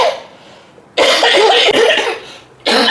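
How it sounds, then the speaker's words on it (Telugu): One person coughs in two harsh, close, loud bursts, with a short quiet gap between them. "ఏంటనే అలా దగ్గుతున్నావు?"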